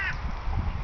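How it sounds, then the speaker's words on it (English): Crows caw at an outdoor bird feeding time alongside seagulls, with one brief call rising over steady, rough background noise. "I can see the crows and the"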